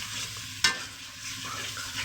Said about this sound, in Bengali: এখন সুন্দর করে এটা নেড়ে দিব।